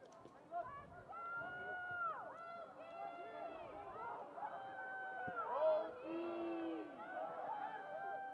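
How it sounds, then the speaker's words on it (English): Crowd noise from spectators at a Virginia Tech men's college soccer match at Thompson Field, a steady babble of many voices with chanting and cheering swells rising and falling throughout. "Some Let's Go Hokies chants raining out here in the crowd at Thompson Field"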